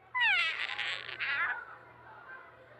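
A person imitates a cat with a drawn-out, wavering meow, followed by a quieter trailing mew. The sound is close and fairly loud.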